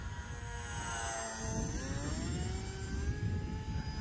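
A 1.1-metre E-flite T-28 Trojan radio-controlled airplane flies overhead, its electric motor giving a thin steady whine that sweeps gradually in pitch as it passes, moderately distant and unaccompanied by talk.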